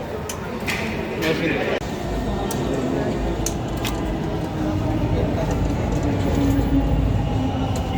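A Dhaka Metro Rail train carriage, heard from inside as a steady rumbling hum with a brief sharp clatter early on, while voices speak over it.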